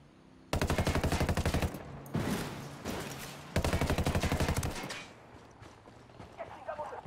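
Automatic gunfire in Ghost Recon Wildlands, two long, tightly spaced bursts, loud and near, separated by a short pause, followed by scattered quieter shots and game noise.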